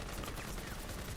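Rapid gunfire from an anime fight scene, a dense burst of overlapping shots lasting about a second and heard at a steady, fairly loud level with voices mixed in.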